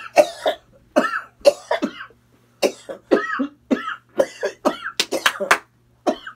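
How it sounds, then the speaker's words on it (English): Repeated harsh coughing fits, close and loud, in rapid bursts with short pauses between them. "I'm coughing, I didn't even hit it!"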